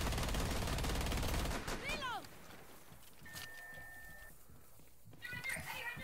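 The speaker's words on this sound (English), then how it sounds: "Hey, shoot the windows up! Shoot the windows up!" Gunfire shooting out windows in Rainbow Six Siege: a loud, dense burst of rapid shots up front, then quieter crackling, a tonal beep and more shots later, with excited voices talking.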